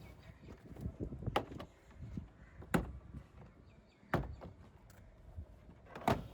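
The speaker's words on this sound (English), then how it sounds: "Now use a trim removal tool to undo all the retainer clips that is holding this door card." A trim removal tool pops retainer clips from a Honda Jazz door card, producing several sharp, separate snaps spaced a second or two apart, close and otherwise fairly quiet.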